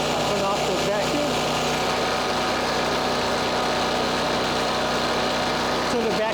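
A Firman tri-fuel generator runs steadily on natural gas, giving a loud, even engine drone with a high whine that holds without change throughout.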